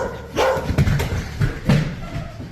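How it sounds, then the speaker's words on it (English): A startled dog barks loudly in several rough, low barks spaced irregularly, close by, with thumping noise mixed in. "This startles the dog, causing it to bark loudly"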